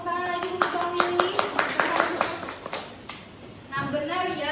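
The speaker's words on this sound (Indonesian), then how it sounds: "Beri tepuk tangan lagi untuk Bang Willy." Classroom applause for a student, a run of sharp claps spread over a few seconds at moderate distance, with a voice talking and fading in and out over and around the clapping.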